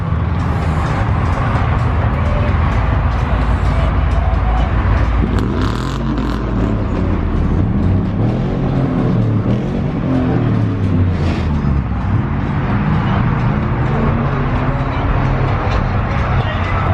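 Car engine running at a car meet, a steady low rumble underneath lively nearby crowd chatter and shouting.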